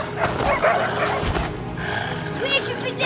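Dogs bark and yip excitedly during an attack, mixed with shouting voices urging them on, in a noisy, busy scene.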